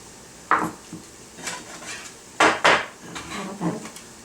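Knife chopping cabbage finely on a cutting board, heard as a handful of sharp, irregular knocks and thuds close by, with quieter gaps between the strokes and no talking.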